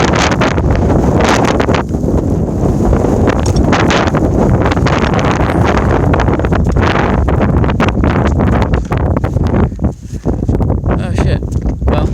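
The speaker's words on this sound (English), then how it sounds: "Wind is about 20-ish miles an hour." Strong blizzard wind, around 20 miles an hour, roars across the microphone in a loud, continuous rumbling buffet with gusty rustling on top, barely easing for the whole stretch.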